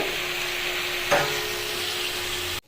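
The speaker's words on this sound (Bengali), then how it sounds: "ভালো করে নেড়ে চেড়ে নেবো" Potato curry fries and sizzles steadily in a pan while being stirred, a broad close hiss with one brief scrape of the spoon midway before it cuts off.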